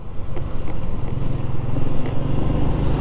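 Motorcycle engine droning steadily and fairly close, with a low rumbling throb and rising intensity as it passes, no voices over it.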